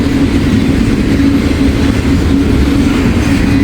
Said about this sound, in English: I'll see if they're just running their double stacks or they have auto racks or anything else behind all these double stacks.